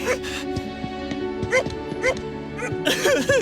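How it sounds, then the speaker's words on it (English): Video game dog yips and whimpers in short bursts over a steady music bed, with soft bow-wow sounds recurring several times through the passage. "Where have you been, you bad doggy?"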